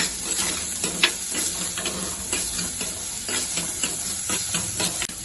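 Snake gourd curry for a sadhya stirred in a pan, a steady close hiss of steam and sizzle broken by repeated soft scraping strokes of the spoon, with no talking.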